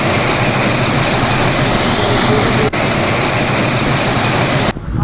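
Clear spring water flowing in a river makes a loud, continuous rushing roar, steady and close, with a short dropout near the end.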